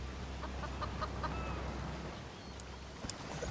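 Birds in a video game, soft clucking and chirping calls scattered across a steady background noise, fairly faint and without talking.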